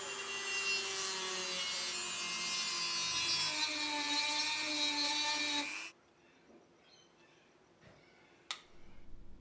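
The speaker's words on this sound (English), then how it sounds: "I think it's going to need the Dremel for this one." A Dremel cutting wheel grinds through the ultrasonically welded titanium case of an implantable neurostimulator, a loud, high, steady whine lasting several seconds before stopping abruptly, followed by quieter scrapes and a sharp tap.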